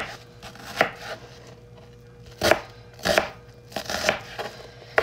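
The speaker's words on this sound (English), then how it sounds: "I'm going to chop some onions." A knife chopping onions on a board, close, with several sharp, uneven thuds and cutting strokes separated by pauses over a low background hum; no one speaks.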